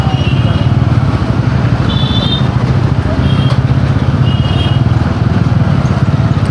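Bajaj Pulsar N160 motorcycle ridden in second gear at low speed through city traffic, its engine droning steadily and close up with a constant hum, brief horn-like tones from surrounding traffic.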